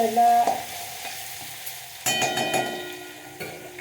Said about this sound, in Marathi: मग नंतर लसूण टाकल्यावर लसणाला छान परतून घ्यावं